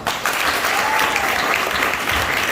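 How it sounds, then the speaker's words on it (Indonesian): Applause from a room of marine vocational school cadets at a fire brigade outreach session, a dense steady clapping held at an even level throughout. "Tepuk tangan."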